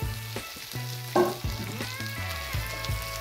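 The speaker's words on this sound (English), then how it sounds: "So what I'm going to do now is I'm going to go ahead and add in our beans." Green beans go into a pan of frying onions, garlic and butter, with a sharp burst of sizzling followed by repeated clattering stirs and a continuing crackle, close and alone.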